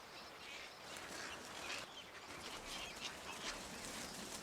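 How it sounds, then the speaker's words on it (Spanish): A riverbank breeding colony of cattle egrets and other birds makes a dense, continuous hubbub of overlapping calls, heard faintly and at a distance, with no voices. "aquí se establecen las colonias de cría de numerosas especies de aves"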